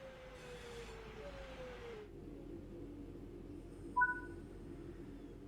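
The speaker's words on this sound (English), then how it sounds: "Bring the train to a stop by applying some brake using the power brake handle." A simulated train in Train Sim World 6 eases to a stop, with a low rumbling hum, a falling brake tone, and brief high squeals and a soft clunk near the end.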